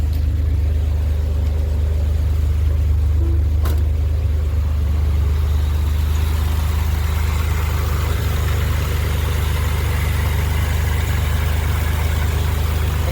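A 2007 Pontiac Grand Prix engine idles steadily and smoothly, a constant low rumble heard close up with no talking, a brief faint click near the start.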